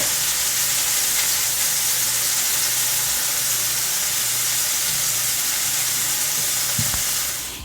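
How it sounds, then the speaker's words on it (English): Homemade maple breakfast sausages frying in a pan: a dense, loud, continuous sizzle and hiss, with a faint tap near the end before the sound fades. "am frying these sausages on both sides anywhere from 4 to 5 minutes"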